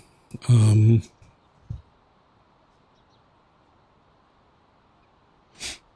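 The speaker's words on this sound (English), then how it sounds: "I need a sneeze." A single loud, close sneeze bursts out abruptly, followed by a small snort and quiet room tone, then a brief breathy sound near the end.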